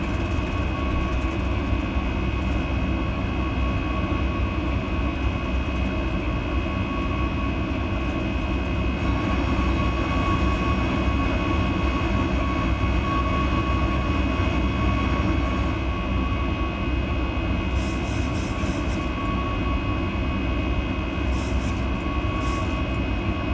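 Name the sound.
Boeing 737 Max 9 in flight, from video game X-Plane 11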